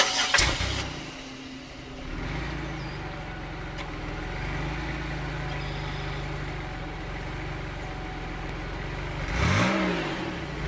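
A 2004 Chevrolet Impala LS with about 218,000 miles cranks briefly and fires up, then settles into a steady close idle, with a second rev or restart surge near the end.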